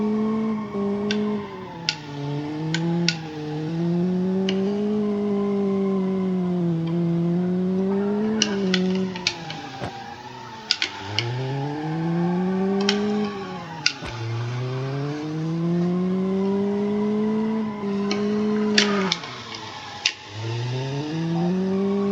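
A Nissan Sentra sweeps through corners in a BeamNG driving simulation, its engine note rising and falling in long swooping arcs as revs climb and drop between gear changes, with occasional brief clicks and tire chatter, alone with no talk.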